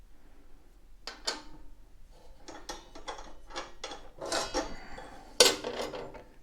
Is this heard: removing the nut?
yes